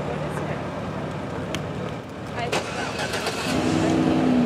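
A VIA Rail P42DC locomotive pulls away, its low diesel rumble swelling and a rising engine tone emerging toward the end, heard from nearby under faint background noise.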